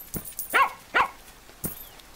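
Guard dogs in the video game Plantera barking, three or four separate sharp barks spaced apart, clear and close against a quiet background.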